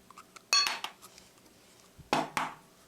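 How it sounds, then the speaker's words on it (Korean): An egg is tapped against a hard surface to check its freshness, giving a few sharp, close clicks: one pair of knocks early, then two more near the end. "톡톡해서 싱싱한가 확인하고"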